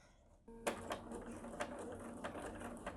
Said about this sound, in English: Now we're going to sew a line as close to the swivel hook as we can between both layers of the strap.